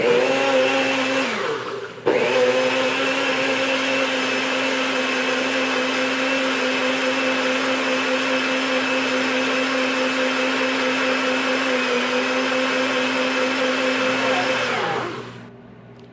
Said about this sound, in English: NutriBullet is very loud.